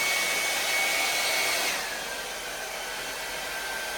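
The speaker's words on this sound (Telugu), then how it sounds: "ఈ అగారో హెయిర్ డ్రైయర్ లో స్టైలింగ్ మరియు టచ్అప్ కోసం కాన్సన్ట్రేషన్ నాజిల్ ఇవ్వబడిందండి" An Agaro hair dryer blows a steady, loud rush of warm air close by, the pitch and level dropping slightly partway through as the setting is lowered.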